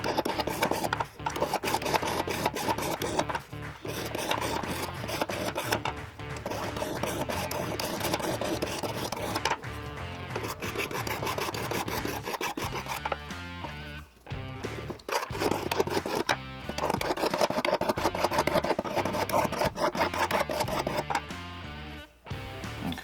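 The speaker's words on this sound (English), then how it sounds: "I'm just going to run a file over that to kind of smooth off the edge" A metal file rasps over the burred rail of a chainsaw bar from a Jonsereds 520SP, giving steady back-and-forth scraping strokes close up with brief pauses between passes.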